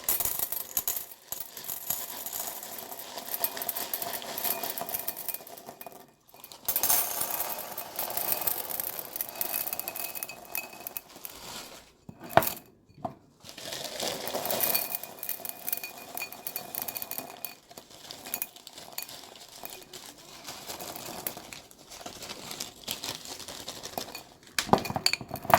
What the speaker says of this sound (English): put these rocks inside these two glass bowls